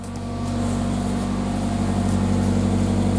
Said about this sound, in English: That is a cold start.